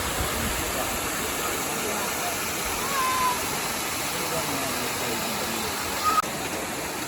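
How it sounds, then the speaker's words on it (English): Water pours steadily over the Linesville Spillway at Pymatuning Lake, a continuous broadband rush heard close by, with a faint engine hum mixed in and a brief louder splash near the end. "the spillway just goes from this side of the lake over to the other side of the road where there's more lake"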